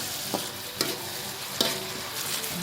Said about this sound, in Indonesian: Jadi ya memang harus kita aduk terus